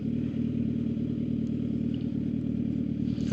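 A Suzuki GSX-R 750 engine drones at a steady mid-pitched hum while riding to work, a continuous close rumble with faint clatter and a brief louder burst at the very end.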